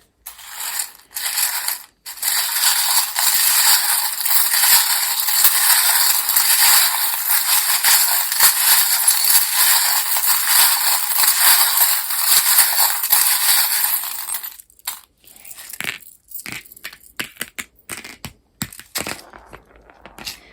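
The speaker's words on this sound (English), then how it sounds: "If you don't like the sound of the charms, Group 2, or you think you won't like them, please turn down your volume now." Small oracle charms rattle and tumble out in a dense, continuous clatter for about twelve seconds, then scattered individual clicks and drops follow as the shaking stops.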